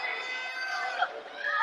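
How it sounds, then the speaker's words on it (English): A pro wrestling crowd chants for the wrestler Ugly, a dense, sustained roar of many voices rising and falling together in a rhythmic chant that fills the arena. "We got that chant going."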